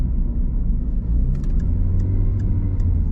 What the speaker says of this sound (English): It sounds like it was revving up a bit then.